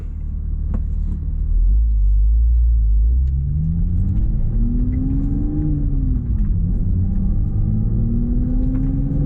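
A MkV Toyota Supra fitted with a UniClutch track clutch pulls away and drives on, its engine a loud, low in-cabin rumble that rises and falls as it accelerates and shifts gears, with no talking.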